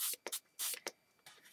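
A spray bottle of Beacon Stiffen Stuff fabric stiffener is pumped onto layered fabric on a small tray. It gives several short, crisp hissing bursts in an uneven rhythm, close and fairly quiet.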